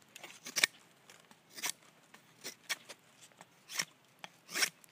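A Schrade SCHF42 knife slicing outdoors, a series of short sharp scraping cuts at an uneven rhythm, close by with quiet pauses between strokes.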